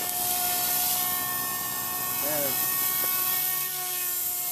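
Blade 130x RC helicopter flying nearby, a steady high whine of small spinning rotors with a brief pitch shift midway, loud and continuous.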